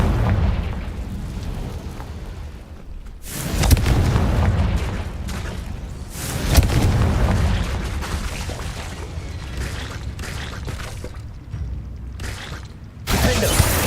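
Confringo fire spell explosions in Hogwarts Legacy. Loud booming blasts come in several separate waves, each with a long roaring tail, and brief speech is heard between them.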